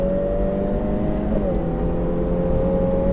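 A car engine hums at a steady, low throttle, its droning tone holding even throughout with no voices.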